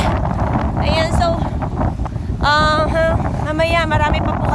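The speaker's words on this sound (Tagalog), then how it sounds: "Ang lakas ng hangin!" Strong wind roaring across the microphone on a boat at sea off Japan, a constant loud rush under a person talking excitedly.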